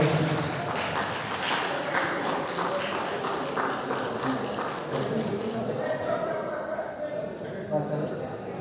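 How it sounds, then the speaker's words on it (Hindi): Audience applause welcoming district in-charge Dhananjay at a yoga event, steady clapping sustained throughout and mixed with crowd murmur and voices. "तो एक बार जोरदार ताली से हमारे जिला प्रभारी धनंजय जी का स्वागत करें।"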